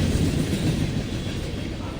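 A train rolling past a school, heard from a sixth-floor classroom, gives a steady low rumble that holds at an even level throughout with no talking.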